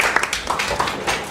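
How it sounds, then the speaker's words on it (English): A short burst of audience clapping for a club member at a Toastmasters-style meeting, a handful of scattered hand claps over a couple of beats, fairly close and moderate in level, not a full roaring ovation. "Let's give him a round of applause."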